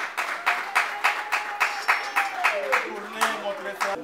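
Audience applause at a civil wedding ceremony, heard as a run of distinct, fairly slow claps at steady loudness over about four seconds, with a voice speaking over them toward the end.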